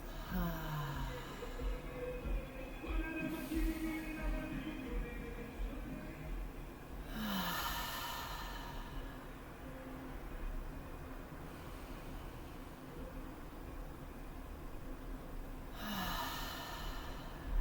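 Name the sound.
deep breathing, inhaling through nose and exhaling through mouth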